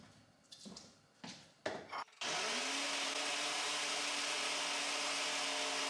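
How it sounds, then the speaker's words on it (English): Kitchen blender whirring steadily at full speed while mixing a protein smoothie of banana, chia seeds, cinnamon and spinach, preceded by a few brief clunks and rustles, then a loud continuous motor drone. "I like to mix that up in the blender"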